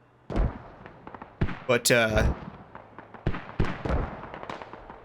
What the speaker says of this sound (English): Old Knights here have mortars up and they are rocking the place